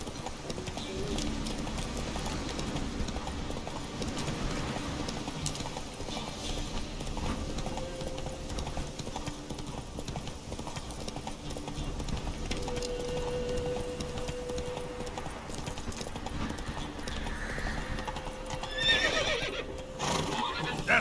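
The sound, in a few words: Geralt's horse Roach galloping and neighing in The Witcher 3 video game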